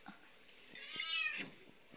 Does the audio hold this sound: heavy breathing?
no